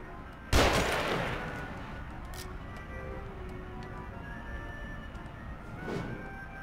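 A sniper rifle fires once in the video game The Evil Within, a single loud crack with a long decaying echo. A faint second pop follows later over quiet ambient tones, with no talking.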